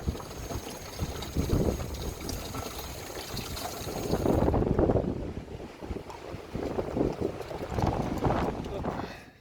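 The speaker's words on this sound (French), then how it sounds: "On va aller à nouveau affronter le vent." Strong wind blows around a camper van, roaring in heavy, continuous gusts that buffet the microphone, loud throughout, with a voice faintly beneath the noise.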